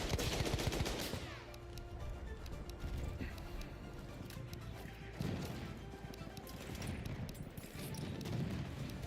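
Enemy machine gun fire in Battlefield 1 multiplayer, a dense rattle of rapid bursts running through the whole stretch amid other battlefield noise, with a player talking faintly over it.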